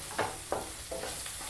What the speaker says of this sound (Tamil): எண்ணெயிலே நல்லா வதக்கி விடுங்க.